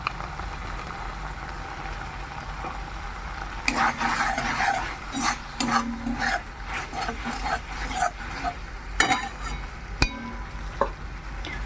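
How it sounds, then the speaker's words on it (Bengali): Spices and chili powder being fried and stirred in a pan for vegetable dal: a soft steady sizzle underneath, then bursts of spoon scraping and stirring from about four seconds on, close and moderately quiet, no talking. "মশলা খুব ভালো করে কষে নেওয়া হয়ে গেল আর দিয়ে দিচ্ছি একটু লঙ্কার গুঁড়ো"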